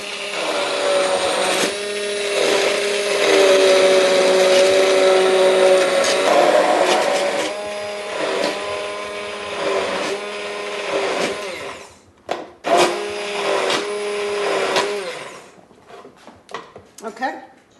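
A hand blender purees pea and lettuce soup with a loud, steady motor whine, pitch shifting as it works, then cutting out in short bursts near the end.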